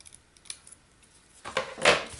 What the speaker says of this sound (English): cut a little slit in the center and then go from corner to the end of that slit